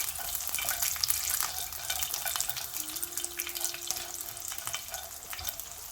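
Peanuts sizzle softly as they lightly cook in a pan over gas, with a steady faint crackle and occasional light stirring clicks throughout.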